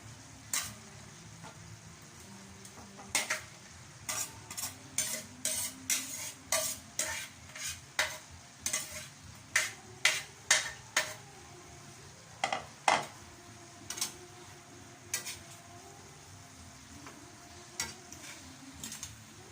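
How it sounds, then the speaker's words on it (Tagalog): Kangkong leaves stirred into a pan of Bicol-style kandingga, with a utensil scraping and clinking against the pan in a steady run of sharp strokes over a faint, continuous frying hiss. No one speaks. "lagay na natin yung dahon ng kangkong"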